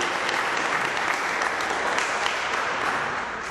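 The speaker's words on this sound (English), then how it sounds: "we should give the students a round of applause before we go even any further for the job that they have been doing" A room full of people applauding students at a district political debate, an even, dense round of clapping held at steady loudness from start to finish.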